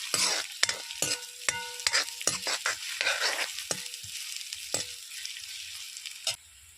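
Onions fry in a smoky pan and are stirred, with a string of sharp scraping and clinking knocks over a crackling sizzle that thins out toward the end, close by, with no speech.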